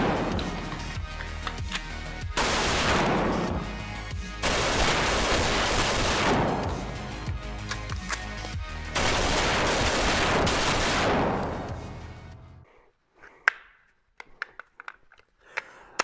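SIG SPEAR LT rifle firing in long rapid bursts, dense loud cracks running for several seconds at a time, then a few scattered single shots and clicks near the end.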